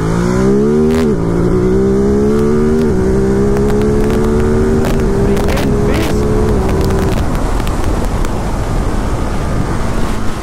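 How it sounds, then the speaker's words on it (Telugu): A parallel-twin motorcycle engine at an auto expo revs up in a rising, throaty climb, holds a steady high note, then drops off into loud, crackling exhaust pops and burble, close and continuous. "Pops, that parallel twin pops."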